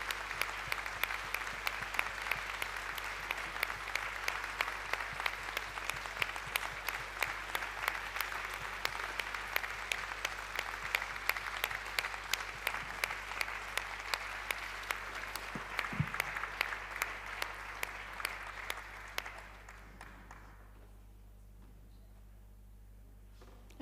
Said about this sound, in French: nous pourrions peut-être donner une salle d'applaudissements pour Père Stan.